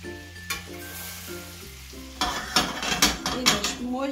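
A tuna steak sizzles in a hot pan, starting with a soft hiss and tonal hum, then bursting into louder, crackling frying with scraping stirs and bubbling pops.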